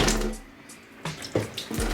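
Water gushes back through a hot tap during repair of a Vaillant boiler flow turbine, a loud rushing flow that dips and then surges again in short bursts.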